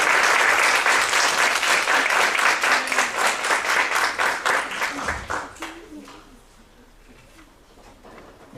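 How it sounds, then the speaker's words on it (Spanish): Audience at an academic conference on communication, crime and power gives a loud, full round of applause that holds strong, then breaks into a few scattered claps and dies away into quiet. "Les pido un fuerte aplauso para el maestro José Antonio Ramírez."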